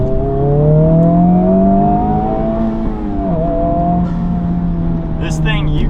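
A manual sports car fitted with an aftermarket air intake hums along at a steady engine drone, briefly dipping in pitch as if shifting, close and loud, with someone talking over it.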